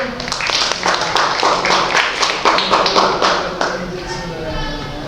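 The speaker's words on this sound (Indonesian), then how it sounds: "Oke, tepuk tangan untuk Ben." Students in a classroom clap for a classmate, a lively patter of many hands close by, with voices talking over the clapping.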